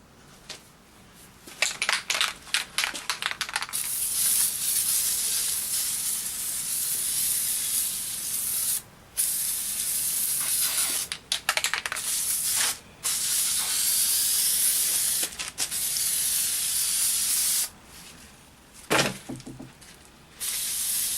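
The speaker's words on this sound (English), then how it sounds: "This Loctite spray adhesive." Loctite high-tack spray adhesive hisses from an aerosol can onto foam in several long bursts, separated by brief pauses and a few short spurts, loud and close.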